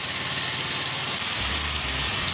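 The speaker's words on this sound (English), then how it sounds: "This machine I'm using is a Husqvarna." Husqvarna concrete power trowel running on a job site: a steady, loud engine drone with a continuous hiss, close and unbroken, with no speech.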